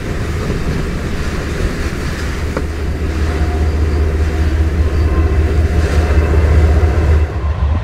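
Freight train rolling past on the Tehachapi Loop, heard from inside a parked truck through the window as a continuous low rumble and grinding wheel noise that swells gradually louder, with no talking.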